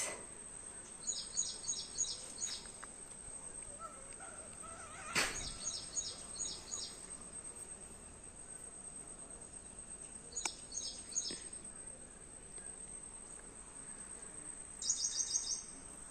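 Birds chirp outdoors in short, quick series of high twittering notes repeating every few seconds, fairly faint and distant over a quiet background with an insect-like hum, and one sharp louder knock midway.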